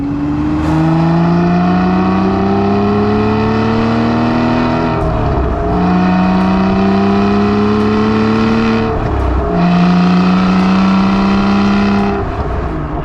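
An Aston Martin V12 Vantage S pulls hard through the gears on the road, its V12 engine rising loudly in pitch, then dropping at each of two upshifts before climbing again, with no talk.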